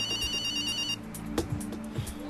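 A telephone rings on an outgoing call, a short high electronic ring tone lasting about a second, then fading into quiet background noise with faint knocks.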